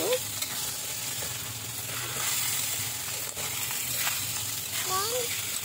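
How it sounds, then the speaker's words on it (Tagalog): Sliced chicken breast and pork belly frying in a pan for pancit bihon, a continuous close sizzle with occasional clinks and stirring scrapes, a faint voice briefly in the background. "ilagay natin yung ating in-slice at hinihiwang chicken breast and pork belly"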